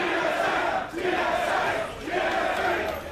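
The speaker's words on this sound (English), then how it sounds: "The crowd chanting their favorite tri-codes for their favorite team." Large esports arena crowd at a League of Legends match, NA LCS Summer 2015, loudly chanting team tri-codes in rhythmic, sustained waves that swell and dip roughly every second and a half.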